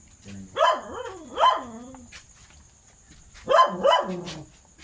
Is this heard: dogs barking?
yes